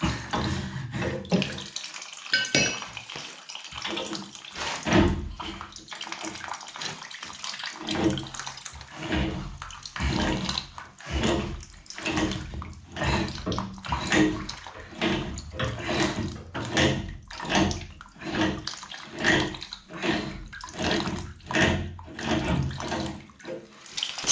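Water trickles and splashes unevenly from an old radiator being drained during an iron-pipe radiator swap, a close, irregular pattering flow with soft gurgles and no talking.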